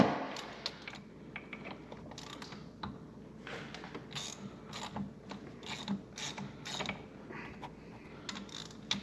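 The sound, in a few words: ratchet cracking head bolts loose on Polaris XC 700 engine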